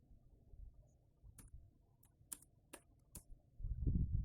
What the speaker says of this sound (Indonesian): pertama kita ketikkan perintah router EIGRP 1